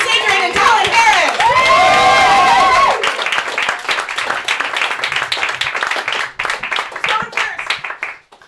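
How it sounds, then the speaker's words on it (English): A comedy roast battle audience claps and cheers loudly, with a host shouting over the opening seconds before the applause settles into steady, gradually thinning clapping. "Keep those hands clapping right now."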